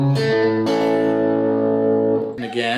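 A country-style lead guitar lick in A, mixing major and minor pentatonic notes with chromatic passing tones, played as a few sustained, slightly distorted electric notes with a brief picked flurry at the end.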